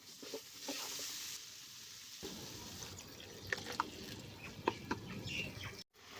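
Onion, salt, cumin paste, ginger-garlic paste and ground spices frying in oil for a home-style chicken curry with potatoes, giving a steady sizzle with stirring scrapes and a few sharp clinks.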